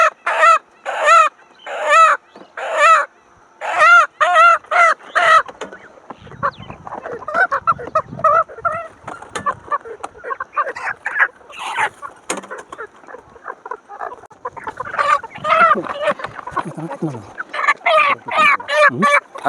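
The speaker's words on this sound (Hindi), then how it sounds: "एक बार एक मुर्गा पकड़िए देखिएगा तो" Desi chickens cluck and squawk in loud bursts while being caught on a poultry farm, flapping and commotion in between, with some faint voices in the background.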